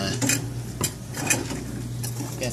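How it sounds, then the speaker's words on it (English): A spoon stirs a dish seasoned with cinnamon in a pot, scraping and clinking in irregular strokes, close and fairly loud, with no talk. "Definitely have to stir this"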